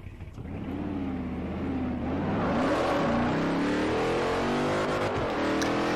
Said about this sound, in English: just listening to that engine, it just feels powerful